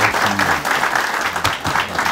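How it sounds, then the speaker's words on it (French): Audience applause at a school's official speeches ceremony, dense steady clapping from a sizable crowd throughout, fairly loud and close with faint voices mixed in. "Donc je vous demande de l'applaudir fort."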